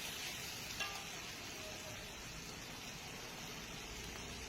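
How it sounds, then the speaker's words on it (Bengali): Spice paste with salt, turmeric and Kashmiri red chilli powder sizzles softly in a pan while being stirred for a jackfruit kofta curry, a faint, even frying hiss with occasional light scrapes and no talking. "ভালো করে মশলাটাকে কষিয়ে নেব।"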